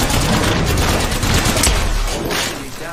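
Sustained video game gunfire, a dense fusillade of rapid shots with a heavy boom near the middle, loud and continuous, fading slightly toward the end.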